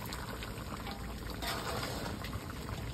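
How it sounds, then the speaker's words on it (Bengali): Water is poured into a cooking pot of meat with gourd, giving a steady, faint, splashy hiss that lasts throughout without pause. "বসানো শেষ, এখন পানি দেওয়া হবে।"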